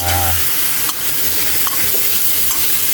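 Sotanghon noodles, readied for a guisado, are stirred in a hot oiled pan: a loud, close sizzle with scraping strokes and occasional sharper knocks of the utensil against the pan.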